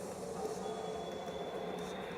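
Hyper Guardian Train boss rumbling in the shoot-'em-up video game Sine Mora, a quiet, steady mechanical rattle with a faint sustained high whine, no voices over it.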